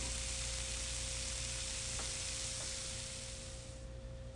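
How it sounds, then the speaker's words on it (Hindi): Paratha, a tofu and spinach flatbread, browning in oil in a hot pan gives a steady, loud sizzle with a hissing frying texture that fades slightly toward the end, with no talking. "थोड़ा सा तेल, अच्छी तरह से उसे ब्राउन करते हैं।"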